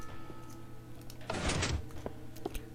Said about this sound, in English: It's just a basic piston door.